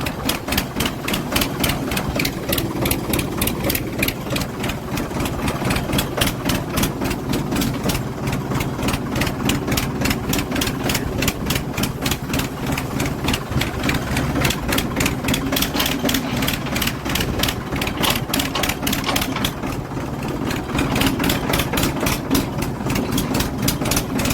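A tractor's diesel engine idles close by with a steady, rapid chugging knock that holds an even rhythm throughout.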